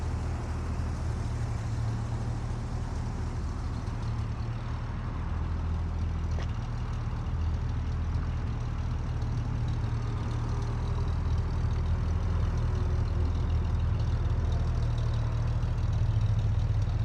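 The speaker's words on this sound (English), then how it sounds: "Love the sound of that exhaust." Restored 1954 Chevy 3100 pickup with a 235 inline-six and dual exhaust idling, a steady low rumble that stays even and close throughout, no voices over it.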